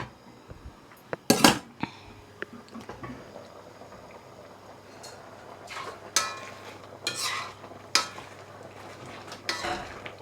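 Fried-potato blended curry boiling hard in a pot on the stove, with a low bubbling base broken by sharp pops and sudden splatters that burst out irregularly, fairly quiet overall and with no talking.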